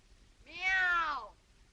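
A human voice imitates a cat, giving a single drawn-out meow that rises and then falls away, clear and fairly close against a quiet background.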